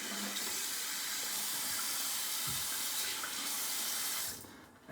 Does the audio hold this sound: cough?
no